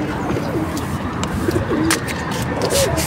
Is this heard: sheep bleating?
no